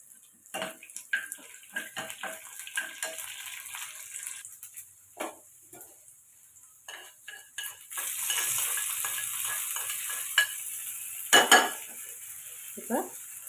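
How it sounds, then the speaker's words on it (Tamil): Mustard seeds, urad dal, chana dal and a dried red chilli are tempered in hot oil for a tomato chutney. Light spoon clinks and stirring come first, then a steady, close sizzle builds midway, with no voices. "இப்போ எண்ணெய் சூடானும் கடுகு, உளுந்தம்பருப்பு, கடலைப்பருப்பு சேர்த்து தாளிச்சுக்கோங்க."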